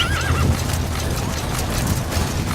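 A horse whinnies loudly at the start, followed by snorting and clip-clopping hooves amid steady game-like background sound, in the video game Metal Gear Solid V: The Phantom Pain.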